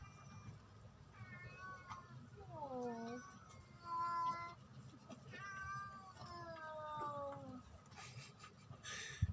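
A house cat meows several times in a row, close and clear with rising and falling tones, the calls spread through the clip over a low background hum, ending with a short rustle.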